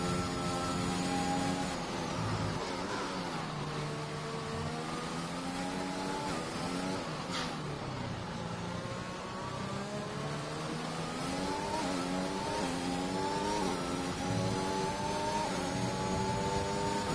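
Race car engine in a racing game, heard onboard during a flying lap on a wet track in Britain, loud and continuous with rising revs, gear shifts and repeated acceleration sweeps, no talking.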